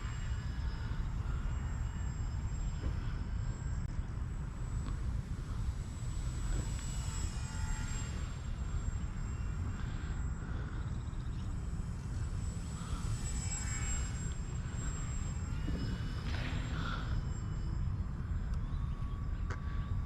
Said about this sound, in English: Just a cool little plane to fly around in a small space.